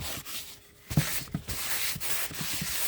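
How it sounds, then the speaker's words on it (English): Hand sanding of painted wood furniture, a soft, steady scratchy rub with short stroke bursts, close and quiet with no talking. "I've sanded it down good."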